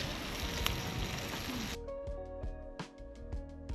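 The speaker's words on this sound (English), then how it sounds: "Our guide Kevin fried up salmon on the fire and we feasted on its crispy skin" Salmon frying over a campfire gives a steady, dense sizzle and crackle for under two seconds, close by, before it cuts away to a different sound.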